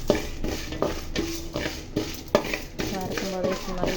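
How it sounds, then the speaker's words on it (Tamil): Lentils dry-roasting in a pan over a low flame, with repeated scraping and stirring of a spatula against metal and a faint, light sizzle, no voices. "கோல்டன் ப்ரௌன் ஆகிற வரையும் சிம்மில் வச்சு வறுத்துக்குவோம்"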